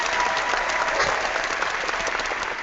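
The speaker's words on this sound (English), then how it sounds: "Round of applause." Steady applause from a small group fills the room, a dense continuous patter of clapping at even loudness that trails off slightly at the end.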